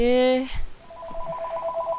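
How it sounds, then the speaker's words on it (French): A mobile phone ringtone goes off indoors, a loud, bright melodic ring that breaks off quickly, then a fainter repeating electronic tone continues behind someone speaking. "pour ce mec qui oublie d'éteindre son téléphone"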